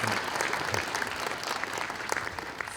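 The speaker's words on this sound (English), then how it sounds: "Sarah, yeah, we can clap for Sarah." A commencement audience at a college graduation ceremony claps for the student speaker, a brief dense burst of applause from a large crowd.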